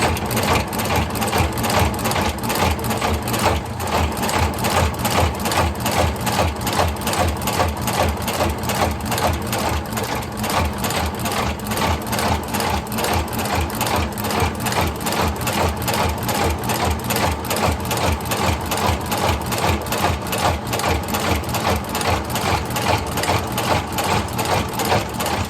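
A Blake stitch sewing machine stitches through a shoe sole in a steady, rapid mechanical chatter, loud and close, running without a break and with no talking.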